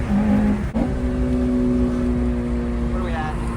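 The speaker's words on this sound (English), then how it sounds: "high-speed Civic run" A Honda Civic cruising at high speed, with a steady engine drone and road roar from inside the cabin and a brief dip early on, under people talking.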